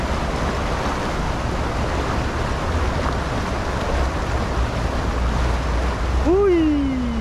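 Sea waves and a strong current rushing steadily, with dense wash and wind noise throughout; a voice calls out near the end.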